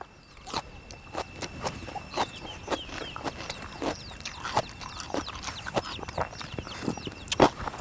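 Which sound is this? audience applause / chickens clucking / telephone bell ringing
chickens clucking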